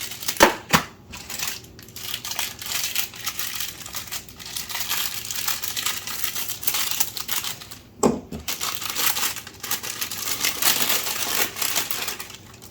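A small plastic baggie from a Carrera Digital 132 slot car set box crinkles and crackles close up, with sharp rustling bursts near the start and again around the middle between softer handling; no talking.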